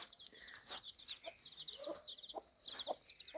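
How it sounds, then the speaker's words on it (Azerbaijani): A protective hen clucks softly among her ten-day-old chicks outdoors, repeated short clucks with high peeping chick calls scattered throughout, close and moderately loud over faint background ambience. "Çox heçli toyuqdur, balaların yaxşı qoruyur."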